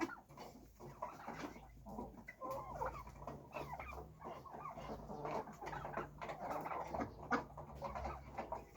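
Poultry flock eating feed, with steady overlapping clucks and soft pecking, close and continuous throughout, moderately quiet and without talk.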